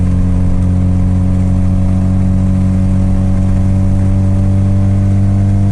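A modified 1990s Opel Kadett on its original factory engine management pulls steadily in fifth gear, a loud, even engine drone with strong low harmonics and no break, heard from inside the car.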